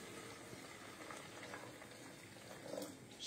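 Water runs steadily into a blender jar over coconut for homemade plant milk, a soft continuous trickle and splash that swells slightly near the end, quiet and with no voices.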